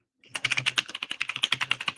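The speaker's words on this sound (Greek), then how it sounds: "το πληκτρολόγιο ακούγεται μέχρι το Κόσοβο" Loud typing on a computer keyboard during a casual quiz game, with rapid, uneven clacking keystrokes close to the microphone for about two seconds and no talking.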